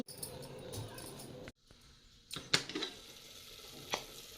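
Chickpea sabzi cooking in oil in a pan, a soft steady sizzle with a few brief stirring clatters of a utensil, heard close and alone without talk.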